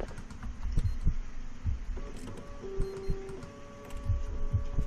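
A printer or fax machine runs in a quiet late-night office, chugging and clicking in an uneven rhythm. Mechanical thumps and a brief whirring tone sound close and moderately loud.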